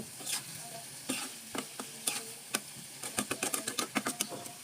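Prawns with spring onion greens and coriander leaves cook in oil, giving a steady hiss broken by repeated scraping stirs that grow quicker and more rhythmic toward the end, close and fairly quiet, with no voices.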